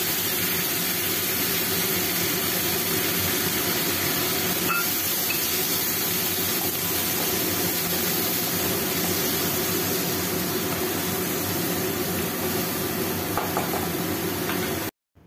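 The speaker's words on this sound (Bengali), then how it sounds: "এখন আমি এর মধ্যে দিয়ে দিচ্ছি পেঁয়াজের পেস্ট।" Onion paste frying in hot oil in a pan for egg korma, a steady, loud, continuous hiss and sizzle that holds evenly throughout with occasional faint knocks.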